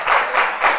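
Brief burst of clapping for Sergent Markus at a live comedy show, a few loud rhythmic swells of applause lasting under a second with no voices.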